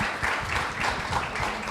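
Audience applause at a Portuguese panel event on the horror film Nosferatu: a continuous, even patter of many clapping hands at moderate loudness, heard alone without talk.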